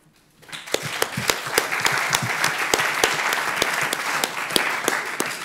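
Audience applause fills a conference hall at an economics session in Aix-en-Provence, steady dense clapping with sharp individual claps standing out, loud and sustained after a brief quiet start.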